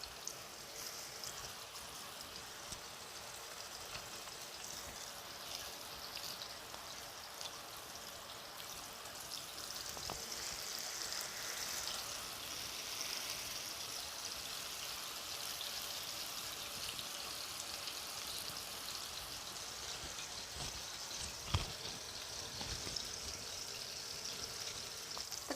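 Chapli kababs sizzle in a pan over medium-high heat, a continuous soft hiss and crackle at low volume with occasional sharper pops, no voices over it.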